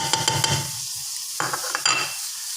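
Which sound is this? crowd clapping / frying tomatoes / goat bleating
frying tomatoes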